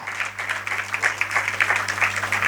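Audience members at a religious lecture gathering clap for young volunteers, a moderate patter of overlapping hand claps over a steady low electrical hum, fairly close and continuous.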